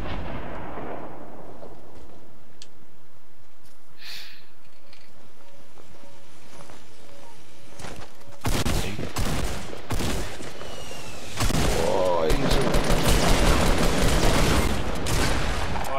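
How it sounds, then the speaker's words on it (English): Rocket launches and explosions in the video game Fortnite: a quiet start with faint tones, then a series of loud booming blasts and bursts from about eight seconds on, thickening into heavy overlapping fire near the end. "Who's firing rockets at me?"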